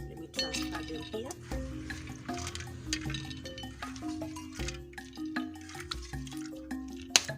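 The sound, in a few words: washing food in water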